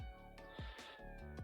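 A cat meows once or twice amid a busy, layered background, with a short squeal-like rise partway through; fairly close and moderately loud.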